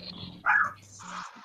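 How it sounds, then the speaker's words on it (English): A Chihuahua gives one short, sharp yappy bark nearby, with quieter dog noises and faint background sound around it. "Whose dog is that?"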